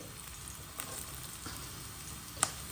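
Chopped garlic sizzles in hot oil in a pan while cooking palabok, a steady soft frying hiss with a couple of brief crackling pops, close and alone with no talk.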